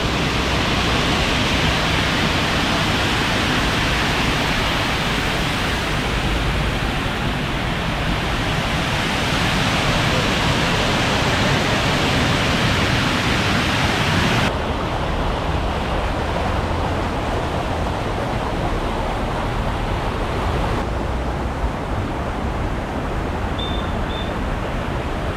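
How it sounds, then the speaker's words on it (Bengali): Water roars steadily through the partly opened lock gates of the Durgapur Barrage on the Damodar, a loud, continuous broadband rush that holds without a break throughout, with no voices over it. "জলের আওয়াজ শুনতে পাচ্ছ"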